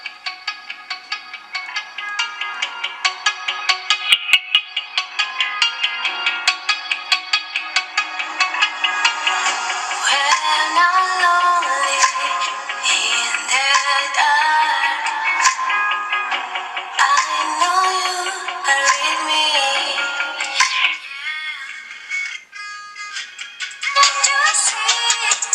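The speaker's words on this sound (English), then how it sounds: "let's try a no copyright music." Royalty-free music plays through the small speaker of an Umidigi Bison phone, a bright, thin melody with a steady pulsing beat that runs continuously and fairly loud, with no bass and no voices.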